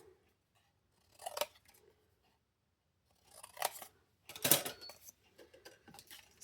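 Scissors snip through paper while trimming a piece for a handmade card: three separate bursts of close, crisp cutting spaced across a quiet room, with no talking.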